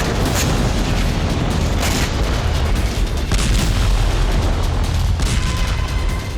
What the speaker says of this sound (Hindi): कीव में मिसाइल हमले के दौरान कई धमाके हुए